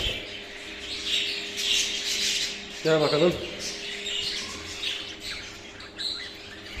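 Caged pet birds chirping and squawking while being picked up by hand, a busy mix of high calls with one harsh squawk burst in the middle, under a man's occasional speech.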